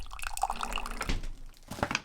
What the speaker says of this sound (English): The glorious sound of coffee dripping into your cup in the morning